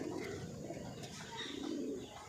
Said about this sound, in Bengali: বুনো কবুতরের ডাক হবে অস্থির